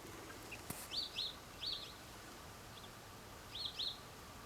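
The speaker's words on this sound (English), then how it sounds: "Hear that bird?" A bird calls outdoors near a backyard chicken flock, several short bright chirps in pairs spaced a few seconds apart, moderately distant over a quiet background.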